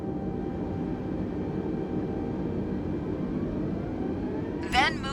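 A320neo jet engines in a flight simulator game, with both thrust levers eased forward for takeoff. A steady, even engine drone fills the whole stretch, with faint rising tones and a brief sharp blip near the end.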